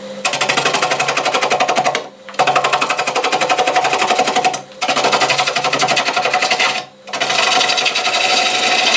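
A wood lathe spins a cherry burl bowl at about 650 RPM, a loud, steady buzzing whir with a dense rapid texture that cuts out briefly three times before starting again.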